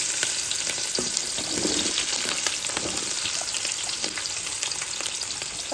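Onions fry in hot oil for fried rice and chilli chicken, a dense, steady crackling sizzle up close with occasional pops and stirring, no talking.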